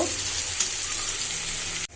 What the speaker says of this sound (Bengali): তা আমার পেঁয়াজটা ভাজা শেষ